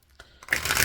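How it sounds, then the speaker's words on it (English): Tarot cards from a Trick or Treat Tarot deck on Llewellyn cardstock being shuffled by hand, a soft riffling texture building to a steady, close, crisp rustle, with no voices. "So shuffled nicely."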